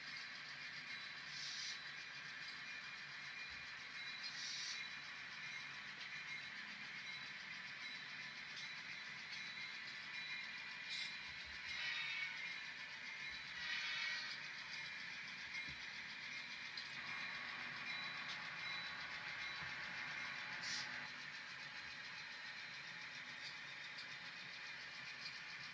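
An N scale model train running on a switching layout makes a steady, faint mechanical whir and hum, with light clicks and a few brief scrapes.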